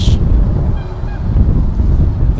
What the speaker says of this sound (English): Oh, it's the ducks. That's the ducks.